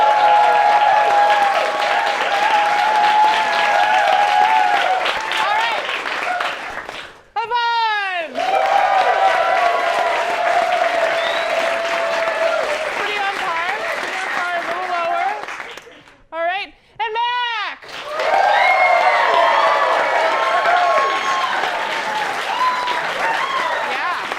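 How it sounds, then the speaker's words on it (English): A live comedy theatre audience applauds an actor in long, loud waves of clapping mixed with cheers, broken by short pauses where a performer speaks before the applause swells again. "you applaud how much you appreciate their acting"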